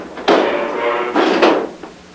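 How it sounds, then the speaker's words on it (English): A desk drawer is shoved shut at a basic-training barracks, giving several sharp wooden slams and sliding knocks in quick succession, loud and close. "shut your drawer now"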